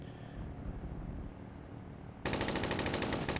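In Arma 3, a loud, sustained burst of automatic gunfire cuts in suddenly partway through, rattling steadily over the dull rumble of the background ambience, with no voices.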